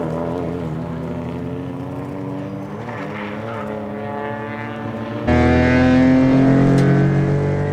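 An F1000 rally car driving a stage, heard onboard: a loud, steady engine drone that rises in pitch and grows louder and harsher as it accelerates near the end.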